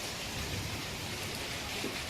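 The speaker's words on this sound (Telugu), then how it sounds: "ఇది బ్యూటిఫుల్ వెదరు చాలా మంచి వెదరు చల్ల చల్లగా వర్షం" Steady rain pours down in cool weather, a dense even hiss of falling drops filling the short stretch with no voices.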